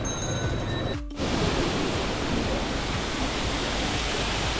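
A small indoor waterfall just past the security gate at Kempegowda International Airport, a steady broadband rush of falling water, close and continuous, with a brief dip and a faint tone just before the splashing resumes.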